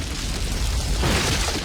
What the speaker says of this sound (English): They do these explosions so well.